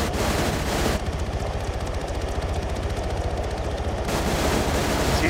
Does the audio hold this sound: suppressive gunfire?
yes